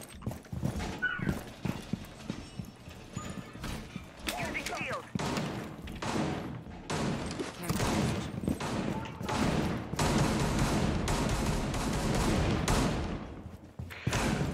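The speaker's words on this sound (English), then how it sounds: "could you maybe stop shooting?" Repeated bursts of gunfire in Rainbow Six Siege ring out in rapid volleys, loud and close, under ongoing game noise and speech.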